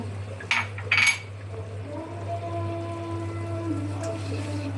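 Fried chicken pieces and capsicum going into a pan of cheesy chicken noodles, with two short clattering bursts of food and utensil against the pan, then a quieter steady cooking hiss under a constant low hum.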